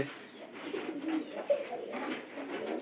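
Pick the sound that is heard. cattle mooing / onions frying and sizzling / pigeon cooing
pigeon cooing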